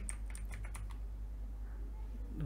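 Computer keyboard keys clatter in quick bursts as text is typed into AutoCAD, fairly close and steady, fading toward the end with no voices.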